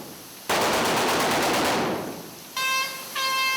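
Sustained burst of aeroplane machine gun fire aimed at King Kong, loud and rapid for over a second, then fading into a roaring tail, followed by two bright sustained tonal whines, no talk.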